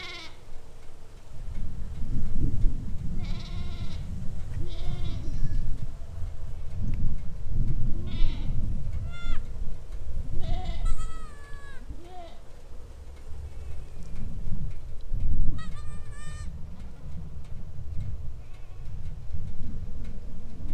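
Newborn goat kids and adult goats on a farm at kidding time, with repeated loud wavering bleats coming close and from further off, over heavy low rumbling wind noise.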